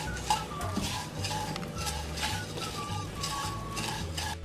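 Vermicelli roasting in desi ghee in a pan over a low flame, heard as a quiet, steady scrape and clink of a spoon stirring against metal with only a faint sizzle beneath.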